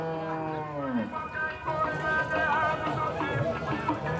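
Dairy cows moo at a cattle fair in Campina Grande, Brazil, a long, falling low call up front, followed by further lowing and a steady crowd murmur.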